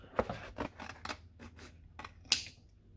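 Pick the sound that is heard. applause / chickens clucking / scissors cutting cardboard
scissors cutting cardboard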